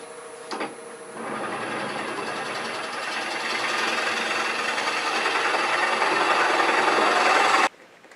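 A lathe drills into a wooden mallet blank at around 500 rpm, a steady close whirring grind that starts after a brief tap, builds gradually in loudness and cuts off abruptly near the end.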